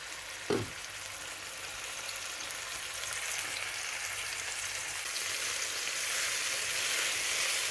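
Seasoned fish frying in hot oil in a pan at home, a steady close sizzle and crackle that builds slightly over several seconds, opening with a short clunk, with no one talking.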